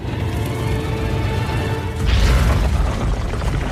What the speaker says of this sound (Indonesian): menuju gudang serbuk hitam dan meledakkan pintunya.